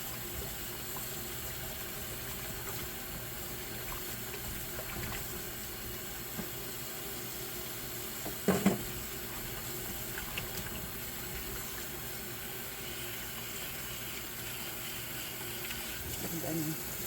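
Red snapper is rinsed in water at a kitchen sink: a continuous soft rush and slosh of running water, fairly faint, with one brief louder splash midway and a voice talking in the background.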